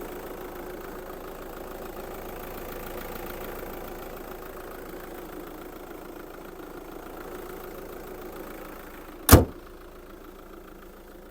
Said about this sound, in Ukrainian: Робота дизеля